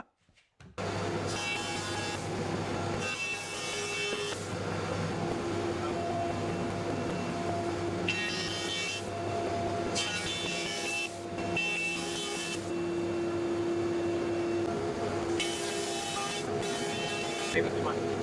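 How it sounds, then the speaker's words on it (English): A planer thicknesser runs rough sawn timber through in a loud, steady machine roar, with harsher bursts as each board passes and voices heard over it at times. "So that is all of the planing and thicknessing done, rough sawn timber to plain square edges."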